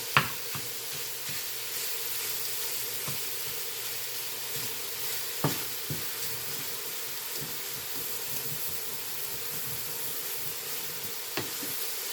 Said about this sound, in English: Got to keep scraping that bottom